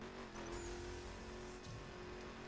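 Car engine from The Crew racing game, a steady loud drone with faint higher tire or road hiss, continuous throughout with no voices.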